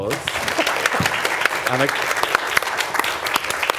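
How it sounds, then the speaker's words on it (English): An audience applauds through the whole stretch, steady clapping beneath a speaker's voice at a live comedy-style show. "Give him a round of applause."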